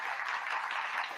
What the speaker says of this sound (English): So I do want to ask everybody to give a round of applause to all the employees for this village